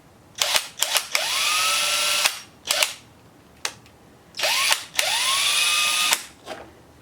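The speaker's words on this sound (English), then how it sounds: "And just drill in." A power drill whirs in short bursts and two longer runs, with clicks and trigger taps between, close up and fairly loud.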